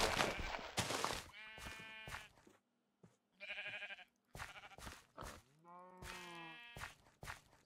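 Sheep on a small Minecraft farm bleat several times in quick bursts, close and clear, with soft footsteps and brief gaps of silence between the calls.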